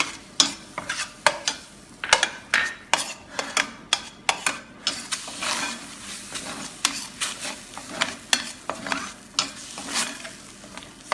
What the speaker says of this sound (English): And now I'm turning up the gas and I'm putting yogurt,